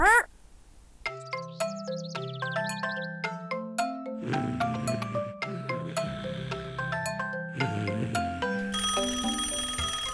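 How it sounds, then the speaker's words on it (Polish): A bright two-tone cartoon doorbell chime rings out, then a busy sequence of chiming bell tones and melodic notes plays on, loud and close. "Tom, obudź się! Ktoś dzwoni!"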